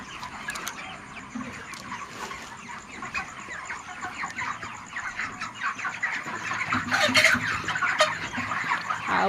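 Broiler chickens about a month old clucking and chattering together in a poultry shed, a dense continuous flock murmur with overlapping calls, close and fairly loud, growing busier toward the end.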